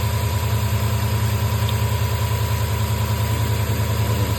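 Truck engine idling steadily at close range after a spark plug and ignition coil replacement, a smooth continuous low rumble with an even pulsing throb and no talk.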